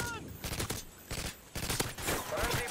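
Rapid gunfire in the video game Modern Warfare 2, loud clattering bursts separated by brief gaps, with other game sounds in between.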